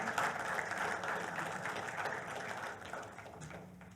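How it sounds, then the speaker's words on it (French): Applause from a seated audience at an entrepreneurs' pitch event as a guest is introduced, steady dense clapping that holds for several seconds and eases slightly toward the end. "Sous vos applaudissements, s'il vous plaît."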